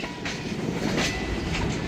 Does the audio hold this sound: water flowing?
no